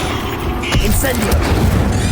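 Incendio fire spell cast in the video game Hogwarts Legacy: a dense, roaring blast of game combat effects with a boomy low rumble and swelling whooshes, loud and continuous under a busy battle mix.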